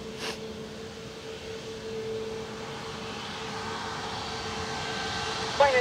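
A Lufthansa airliner lands on runway 28 left at Dublin Airport, its steady engine roar holding at a moderate, distant level throughout with a brief sharper sound near the end.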